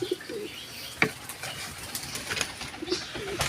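Pigeons coo softly in short bursts amid light ambient noise, with a brief flutter of wings near the middle.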